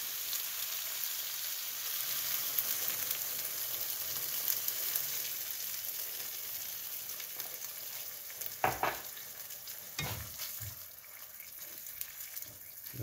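Chicken pieces for Thai Panang curry sizzle and bubble in a pan as a can of coconut milk goes in, a constant close frying hiss broken by a few sharper splashes and stirring scrapes, with no talking.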